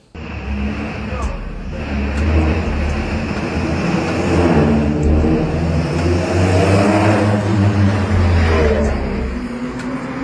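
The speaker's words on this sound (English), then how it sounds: "This is a hydrogen hypercar coming out of France, the Alpenglow High 4. Hydrogen, 4 cylinders." Four-cylinder hydrogen engine of the French Alpenglow Hy4 hypercar running with a steady, loud low drone that rises slightly in pitch as it revs, heard close.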